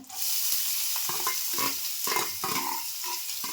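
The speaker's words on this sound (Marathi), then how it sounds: "आता मी कांदा पण टाकून घेते फोडणीला." Onion dropped into a hot tempering of oil with cloves, cinnamon and bay leaves for veg kurma, sizzling and frying steadily while a spoon stirs it in repeated scraping strokes; close and fairly loud, with no talking.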